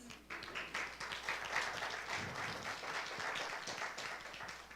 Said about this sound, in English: y'all should give us a round of applause